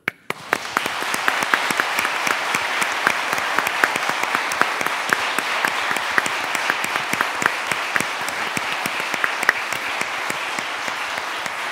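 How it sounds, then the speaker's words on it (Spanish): A large audience applauds steadily at a Supreme Court swearing-in ceremony for new lawyers. The dense, even clapping starts almost at once and holds for about eleven seconds without voices. "aplaudamos este logro"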